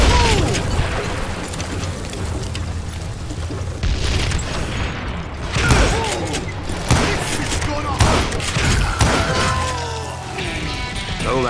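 Repeated loud gunshots and booming impacts in Call of Juarez: Gunslinger, firing in rapid bursts with crashes and some game voices between them.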